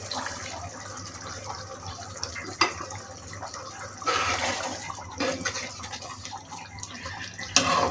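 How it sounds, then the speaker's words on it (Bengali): A little water poured into a hilsa fish gravy, a running, splashing pour over kitchen background noise, with a few clinks of the pan along the way. "আর একটু সামান্য পরিমাণ পানি দিয়ে নেব।"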